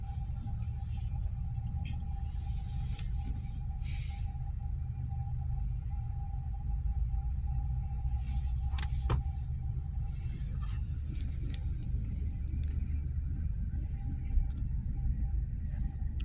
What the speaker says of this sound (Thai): รถแก่ดินทรายเนาะแก่ทรายมาแต่แคมป์ของนู่นแหละ